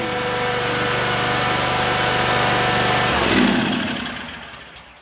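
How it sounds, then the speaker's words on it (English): A lawn mower engine catches and runs at a steady, loud drone close by, then winds down toward the end. "That's a good thing that mower started up."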